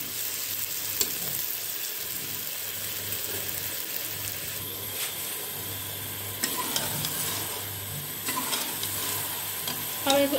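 Okra sizzles steadily in a hot pan while being stir-fried with occasional spatula scrapes, a continuous close frying hiss with no voices.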